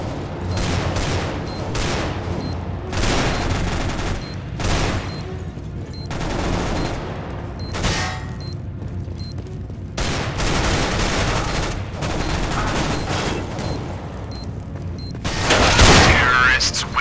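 Rapid bursts of gunfire in Counter-Strike: Global Offensive, repeated volleys of shots in clusters across the clip, loud and close, with a heavier burst near the end and occasional game sounds between.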